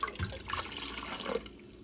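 Water splashes and trickles into a metal pressure canner being prepared for canning meat, a brief close pour with a wet, hissing wash and no talking.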